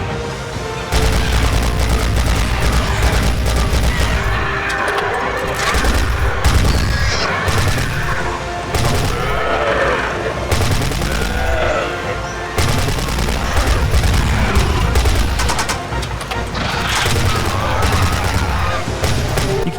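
Pistol gunfire in the dinosaur shooting game Dino Strike, dense rapid shots and booms mixed with game effects, loud and continuous with brief pauses.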